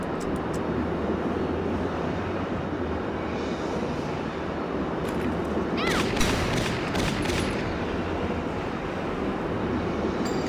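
Gunfire in Valkyria Chronicles Remastered during a desert base assault, a dense fusillade over a constant loud battle rumble, with a burst of sharper shots near the middle.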